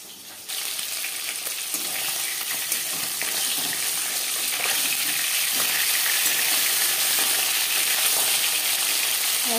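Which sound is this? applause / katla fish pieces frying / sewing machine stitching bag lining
katla fish pieces frying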